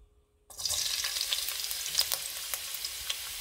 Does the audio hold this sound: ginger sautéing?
yes